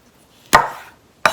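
Two sharp knife chops land on peppers on a cutting board, close and crisp, the first with a short crunchy popping tail, separated by a brief pause.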